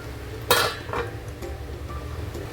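A metal lid is set onto a pot of mustard rohu fish curry with one sharp clank and a softer follow-up clink, then a quiet simmer under light kitchen background noise.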